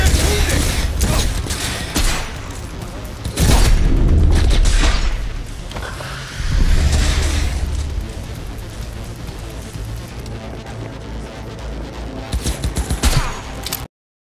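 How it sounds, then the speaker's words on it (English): Gunfire in Cyberpunk 2077 comes in loud bursts and booms, with heavy blasts early, then rattling automatic fire and mechanical clatter continuing throughout. "Hostiles engaged! Opening fire!"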